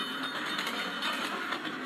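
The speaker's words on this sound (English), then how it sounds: "I hear clickety-clack." A yellow diesel freight train, Gleaming Gold Mixed Freight, pulling boxcars and tanker cars in a video game, rolls past with a steady clickety-clack of wheels over rail joints.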